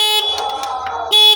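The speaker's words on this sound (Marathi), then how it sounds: "अरे हॉर्न वाजलं" A vehicle horn blares loudly in two bursts, a long honk followed by a short pause and a second sharp blast, close and clear with no talk over it.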